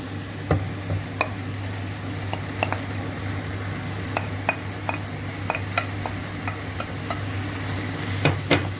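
Kale stirred into sizzling masala in a pan, with a soft continuous fry hiss under a low steady hum and repeated sharp clicks of a spoon against the pan.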